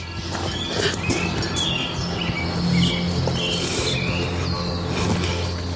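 Faint bird chirps come through a dense, steady wash of background noise, scattered and thin rather than a clear song.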